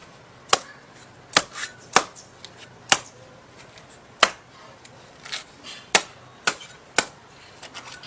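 Sharp, separate chopping strikes, about ten of them at irregular intervals, as something is split apart piece by piece. Each blow lands close and loud over a quiet background, and no one speaks.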